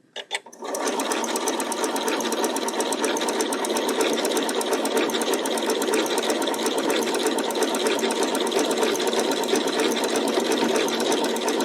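A sewing machine running a blanket stitch on a quilt block: a loud, steady, rapid mechanical whir that starts after a brief click and continues unbroken, with no talking.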